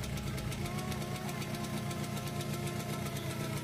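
A Yamaha RZR two-stroke motorcycle idles steadily, a rapid, even ticking and buzzing putter from the engine block that stays constant and moderately close throughout.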